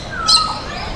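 A single short, shrill sun conure squawk rises over a faint background hum, close by and brief.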